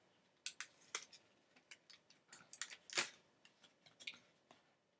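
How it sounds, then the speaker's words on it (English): Several short pieces of sticky tape pulled and torn off a roll for a paper plate tomb craft, giving brief crisp tearing clicks and rips at irregular intervals, close and fairly quiet, with no talking. "So I'll get some tape"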